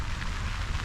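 Rain falls among flowers at an arboretum on a wet day, a steady, close, even hiss with no voices over it.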